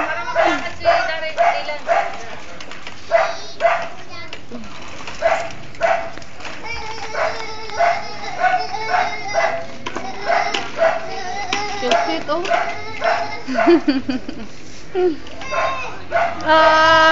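A dog barks repeatedly in short bursts among excited voices, with people talking over and between the barks.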